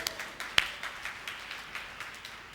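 A church congregation claps during a Sunday sermon, soft and fairly steady, with one sharper clap standing out near the start over a faint room hum.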